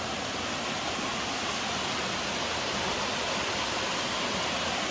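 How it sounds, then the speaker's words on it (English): A waterfall crashes down beside a mountain hiking trail on the Appalachian Trail in the Saddlebacks, a steady, dense roaring hiss that stays constant and moderately loud throughout, with no voices. "And another one crashing down over here"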